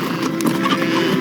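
Horse hooves clip-clop along with a brief whinny, close and fairly loud for about a second, heard in a retro sci-fi TV series.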